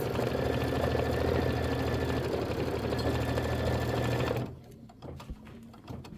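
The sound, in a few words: sewing machine stitching tack-down on pineapple quilt block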